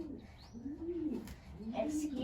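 A racing pigeon coos close by in soft, throaty, rolling phrases that repeat in a steady rhythm, with faint chirps from other birds in a loft.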